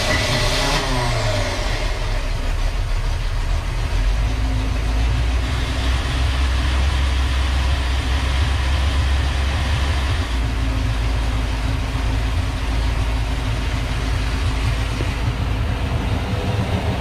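A boat's inboard engine, housed in a hatch beside the batteries and holding tank, cranks over and settles into a steady low idle, a continuous mechanical rumble filling the whole stretch with no talking.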